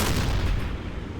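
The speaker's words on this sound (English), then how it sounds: "Thankfully, his gunfire is pretty bad." An enemy merchant ship fires flak guns at a submarine in a video game, a quick burst of rapid gunshots rolling together as distant, rumbling fire, with no talk.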